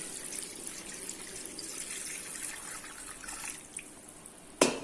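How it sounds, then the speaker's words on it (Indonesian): Coconut milk (santan) poured over beef for rendang, a steady liquid wash and trickle running throughout, ending in a short sharp clatter near the end. "Setelah itu kita masukkan santan."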